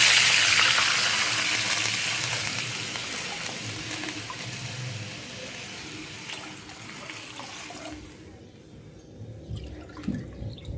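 Water poured from a bowl into a pan for semolina medu vada, a steady broadband gush and trickle that gradually thins and stops near the end, leaving faint clinks; no talking.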